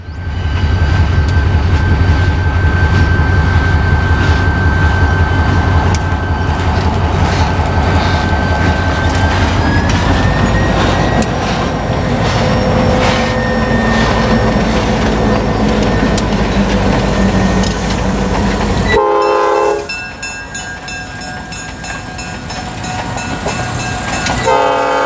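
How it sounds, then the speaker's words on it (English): Conway Valley train on the Conway Scenic line pulling in: a loud, steady rumble of a passing train with a sustained horn tone, then a sharp cut to another sound with a different horn and engine roar. "the Conway Valley train pulled in."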